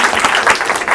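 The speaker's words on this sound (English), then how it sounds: "Please, give her a round of applause." An audience at a forum on small business growth gives a dense, loud round of continuous clapping, close and filling the whole short moment.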